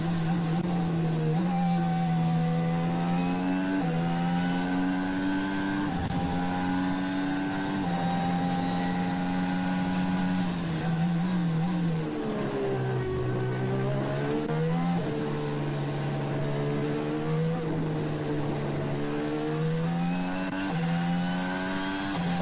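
Formula 1 cars lapping during practice at the Abu Dhabi Grand Prix, their high engine whine rising and falling through gear shifts as cars pass one after another, loud and continuous with no talk.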